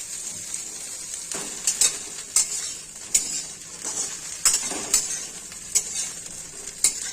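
Steady hiss of drumsticks (moringa) frying in a pan, with occasional scraping and clinks of a utensil stirring against the metal.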